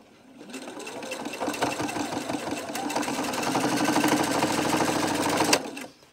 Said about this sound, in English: And then we are just sewing.